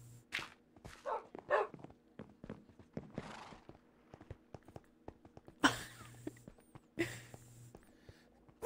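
Repeated barks from Minecraft dogs in a fight, coming in short, loud bursts spread across the clip, over a busy bed of clicks, steps and whine-like game sounds.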